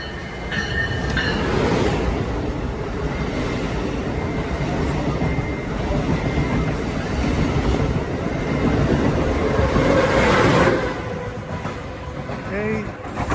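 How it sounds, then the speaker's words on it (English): An Acela Express train rushes past a Port Chester station platform, a loud sustained rumble of wheels with squealing, rising toward the end before trailing off. "Here's the Acela Express train."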